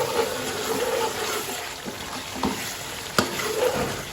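Potatoes fry in a pan with a steady sizzle and bubbling, broken by a few soft clinks and scrapes of stirring, heard up close with no talking.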